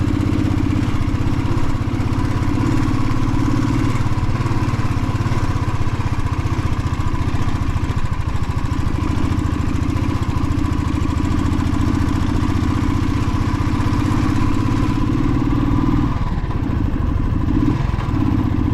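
Motorcycle engine droning steadily and close while riding on the road near Lambasingi, a constant loud hum lasting the whole stretch with no pauses and no talk.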